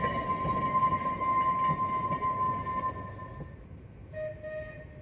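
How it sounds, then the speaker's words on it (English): An Isle of Man electric tram rumbling along the rails at Laxey station, loud and close, with a sustained squealing tone from the wheels before the noise fades and a brief higher tone near the end. "trams arriving and departing for Douglas and Ramsey"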